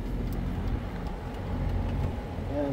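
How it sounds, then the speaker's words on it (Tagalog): An outdoor air conditioner unit with its compressor and condenser fan running, giving a steady, loud, close-up mechanical hum with a low droning tone that holds throughout. "umandar na yung compressor at saka fan"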